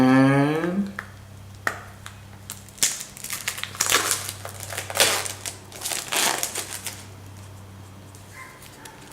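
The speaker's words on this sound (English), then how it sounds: "let's be careful and cut open the plastic" A knife slices through the plastic wrap sealing a Huawei P10 Plus phone box, making close crinkling and crackling bursts that swell and fade in uneven spurts, with a few sharp ticks in between.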